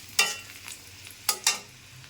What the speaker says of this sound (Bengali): পেঁয়াজটা ভাজা ভাজা হয়ে গেছে প্রায়